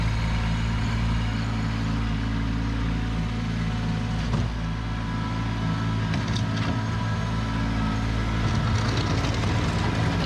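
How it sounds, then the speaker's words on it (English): A Kubota compact tractor reverses and turns while clearing snow, its diesel engine droning steadily and close throughout with a low, even rumble and faint mechanical clatter, no voices. "I have to back the tractor and twist to turn it to get it in line to push the snow away"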